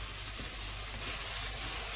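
Onions sizzle and fry steadily in hot oil for a mutton yakhni pulao, a close, continuous crackling hiss throughout with no talking.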